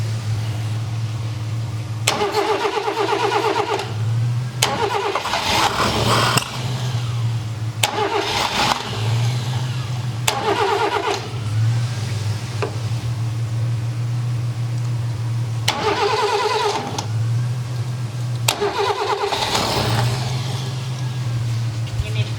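A small lawn mower engine is pulled over repeatedly, giving several loud sputtering bursts that catch briefly and die over a steady low hum, with short pauses between attempts.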